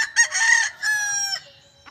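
A rooster crows nearby in a Philippine home yard, one loud, clear cock-a-doodle-doo lasting well over a second with a strained, fading tail.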